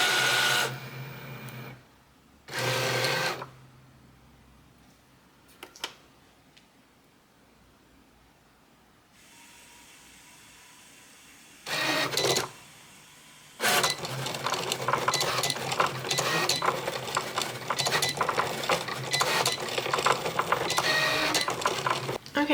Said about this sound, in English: we're going to be using my Cricut Explore 4